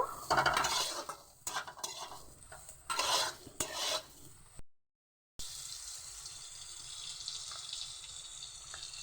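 Soybean chunks fry in hot oil while a spoon scrapes and stirs them in bursts, then a steady close sizzle continues alone after a brief silent break.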